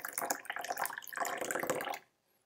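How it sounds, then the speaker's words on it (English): Hot water at about 60 °C poured onto sencha tea leaves, a close, steady splashing stream lasting about two seconds before stopping abruptly into near silence. "For this, I'm going to be using about 60 degrees Celsius water."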